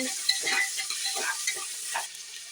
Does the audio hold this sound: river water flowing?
no